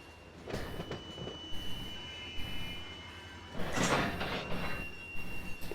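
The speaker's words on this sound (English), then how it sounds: "Look how long that train is." A long train rolls past with continuous rumbling and wheel clatter, punctuated by louder squealing bursts of metal on rail, moderately close and sustained throughout.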